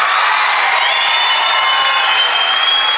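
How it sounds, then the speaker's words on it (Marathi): An audience at a Marathi student function claps loudly for the students, with thick, continuous applause filling the hall at close range. "त्यांच्यासाठी एकदा जोरदार टाळ्या होत्या"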